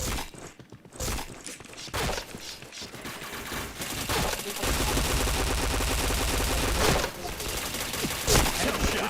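Rapid, dense bursts of gunfire crackle in a video game shooter, with volleys and sustained firing overlapping loudly throughout, and faint footsteps in between.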